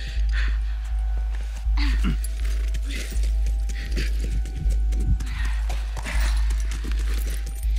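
Steady clip-clop of horse hooves at a quick galloping rhythm in the video game The Last of Us Remastered, loud and close, with a constant low rumble underneath and an occasional whinny.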